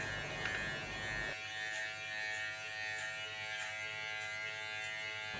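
A steady electric hair clipper buzzes close by with an even, continuous drone as it trims a fade haircut; the hum settles into a cleaner tone partway through and keeps running throughout without talk.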